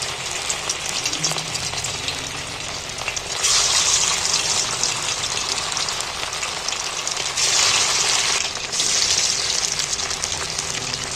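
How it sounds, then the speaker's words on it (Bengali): Chicken pieces coated in a spice mix are dropped one by one into hot oil, setting off a loud, steady broadband sizzle that swells in bursts as each new piece goes in, with no talking. "এবার তেলের মধ্যে ছেড়ে দিচ্ছি আমি একটা একটা করে।"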